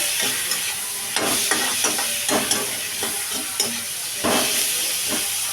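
Drumstick pieces sauté with tomato, onion, garlic and mustard seeds in a pan for kara kuzhambu, a loud continuous sizzle punctuated by repeated stirring scrapes and clatters.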